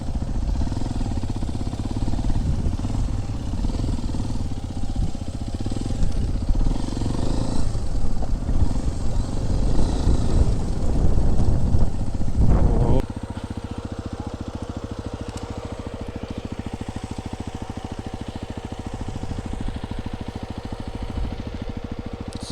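A motorcycle ridden off-road on a hillside near Kodaikanal, its engine roaring and revving loudly with rough clattering through the first half, then dropping abruptly to a steady, lower idle-like drone.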